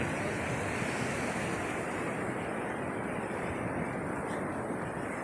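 Steady, loud surf rolls in at Laem Mae Phim beach, a continuous wash of breaking waves mixed with wind buffeting the microphone, with no voices.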